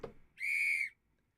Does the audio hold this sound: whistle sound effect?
yes